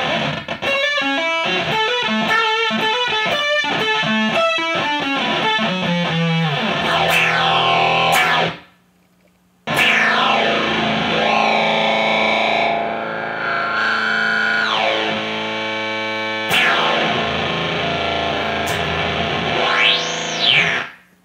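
Guitar played through effects pedals for a synth-like tone: rapid arpeggiated notes, then sweeping, pitch-bending swells with heavy distortion and echo, loud and continuous apart from a brief silence in the middle.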